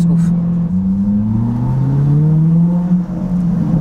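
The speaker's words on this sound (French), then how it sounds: "Corvette C8, super car." A mid-engine Chevrolet Corvette C8 sports car revs loudly and close, its engine note rising and falling in steady sweeps without a break for the whole stretch.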